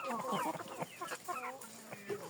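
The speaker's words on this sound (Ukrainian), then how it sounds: "Ось півень." A young rooster on a poultry farm keeping chickens and ducks gives a few short, close clucking calls in an uneven rhythm, fairly soft, with no talking.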